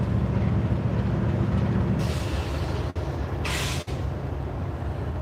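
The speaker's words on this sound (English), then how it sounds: "And there they both sit with that loaded coal train." A loaded CSX coal train idles at a road crossing with a steady low rumble, then a loud hissing air release rises over it partway through, broken by two brief dips.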